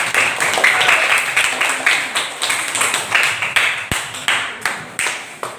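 Classroom audience clapping for a student group, a fairly close, uneven patter of hand claps that settles into rhythmic bursts and continues without speech.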